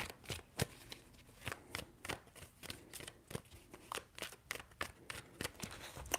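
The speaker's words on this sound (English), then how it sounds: "Three shuffles." Tarot cards are shuffled by hand in a quiet room, making a series of soft, crisp riffling and slapping bursts at an irregular rhythm, close by and fairly faint, with no speech.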